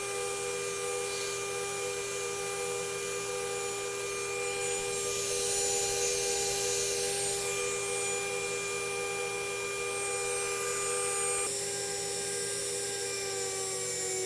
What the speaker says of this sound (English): the VFD is going to send 400 hertz to the spindle